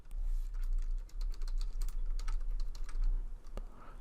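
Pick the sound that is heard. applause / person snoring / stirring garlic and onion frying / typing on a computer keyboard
typing on a computer keyboard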